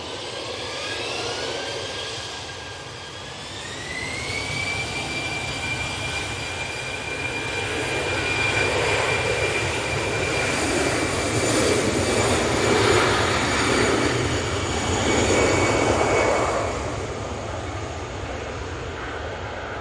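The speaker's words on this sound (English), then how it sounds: "Sun Express coming in." A SunExpress jet airliner lands at Manchester Airport with a loud, close engine roar and a rising whine that holds steady, then swells as the aircraft passes and slowly fades, heard alone without talk.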